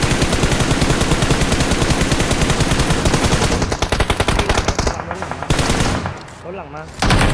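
Rapid automatic gunfire from the battle royale game PUBG rattles loudly and continuously for several seconds, then breaks into scattered bursts with brief gaps and a final loud burst.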